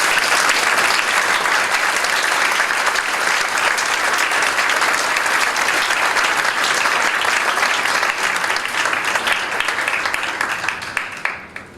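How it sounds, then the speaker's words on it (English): Sustained applause fills a middle school concert hall after a grade 8 band performance, a dense, even wash of many hands clapping that holds steady before thinning and fading out at the end. "One more round of applause, please."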